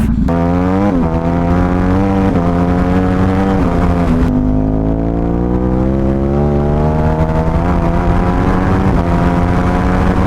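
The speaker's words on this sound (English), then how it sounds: "Gotta love a Ducati." A Ducati motorcycle engine runs loud and close, holding a steady drone with rising and falling revs throughout, no voices heard.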